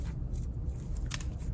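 Scissors snip through paper to cut out a pair of boots for a storytime craft, making a few quiet, short cuts in a row, the clearest near the end, with no speech.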